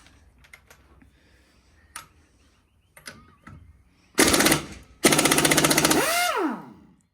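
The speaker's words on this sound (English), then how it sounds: "So you only do it till the nut comes off." Power tool, likely an impact wrench, spinning wheel nuts off a drift car, with a quiet lead-in of clicks and knocks, then two loud bursts near the end that wind down in pitch.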